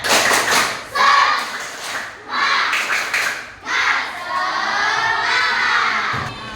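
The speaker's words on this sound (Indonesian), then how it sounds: "Lagi, tepuk semangat." Schoolchildren repeating a patterned classroom spirit clap, loud rhythmic bursts of clapping and thumps broken by group shouting and chanting, ending in sustained cheering voices.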